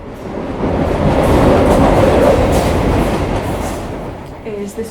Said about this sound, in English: Is this our train?